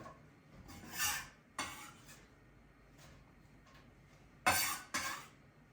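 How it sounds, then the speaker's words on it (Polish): A knife cuts a washed leek into half-slices on a kitchen cutting board, making a few sharp, irregularly spaced chops and scrapes. The sound is close and clear, with no voices. "i od razu kroję około 10 cm kawałek pora"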